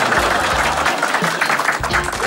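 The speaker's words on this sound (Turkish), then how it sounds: "Alkış." A studio audience at the Turkish sitcom Çocuklar Duymasın breaks into loud, dense applause that fills the whole stretch with continuous clapping.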